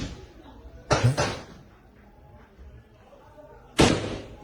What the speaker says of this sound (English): They're shooting outside.